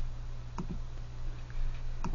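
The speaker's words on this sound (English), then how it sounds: "I'm going to click Cancel since I didn't change anything" Two faint computer mouse clicks when pressing a Cancel button, each a quick double tick over a steady electrical hum, with the second click about a second and a half after the first.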